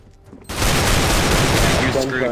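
Dense, loud automatic gunfire erupts abruptly in a Counter-Strike: Global Offensive match after a brief quiet moment and continues as a sustained close-range burst.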